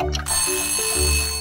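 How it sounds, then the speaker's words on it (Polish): An alarm clock rings with a bright, steady bell-like tone over a sustained tonal background. It is loud and continuous for about a second and a half, with no voices. "Codziennie rano dzwoni budzik"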